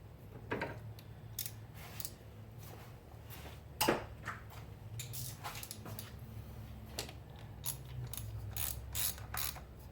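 A ratchet tightens a nut on a Toyota 1.8L engine during a spark plug change, giving a series of quiet, close clicking ratchet strokes in irregular bursts.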